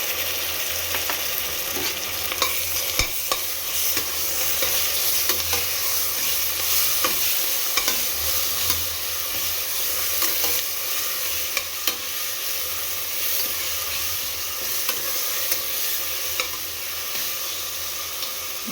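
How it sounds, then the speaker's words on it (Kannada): Masala spices frying in a pan for a palak chicken dish, a continuous bright sizzle with repeated scraping and stirring clicks, close and steady throughout. "ಮಸಾಲೆ ಹಸಿ ವಾಸನೆ ಹೋಗೋವರೆಗೂ ನೀಟಾಗಿ ಫ್ರೈ ಮಾಡ್ಕೋಬೇಕು"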